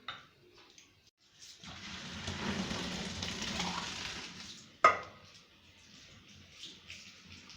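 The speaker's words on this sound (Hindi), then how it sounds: "अब हम इसका पानी निथार लेंगे।" Water from boiled elbow macaroni pours out while draining for a Pakistani-style chicken macaroni dish, a rushing splash lasting about three seconds, then a pot clank and faint kitchen sounds.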